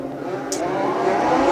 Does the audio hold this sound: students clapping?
no